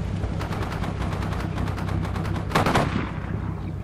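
Rapid bursts of automatic gunfire crackle in a Combat Mission: Shock Force 2 battle with British forces, dense and continuous, with a louder, sharper volley near the end and no talk.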